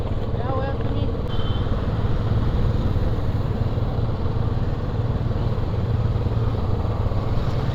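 A motorcycle fitted with a modified silencer exhaust drones steadily and loudly throughout a ride while people talk over the engine noise.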